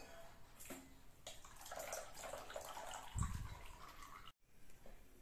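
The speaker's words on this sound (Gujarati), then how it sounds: "પાસ્તામાં ઠંડુ પાણી એડ કરી દઈશું જેથી પાસ્તા એકબીજાને ચોંટે નહીં" Cold water is poured over cooked pasta while it drains: a faint running and splashing stream with small clatters, stopping briefly near the end.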